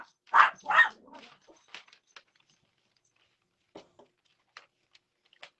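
Two sharp, close dog barks in quick succession, followed by quieter scattered yips and small noises in near silence.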